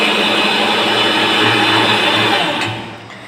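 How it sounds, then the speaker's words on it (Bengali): Mixer grinder whirring loudly and steadily as it blends chopped onion and tomato into a paste for chicken do pyaza, a continuous buzzing drone that winds down near the end. "তারপর নিয়ে নিলাম তোমার মিক্সির মধ্যে পেঁয়াজ কিছু কুচোনো আর টমেটোর, এটা ভালো করে পেস্ট করে নিতে হবে।"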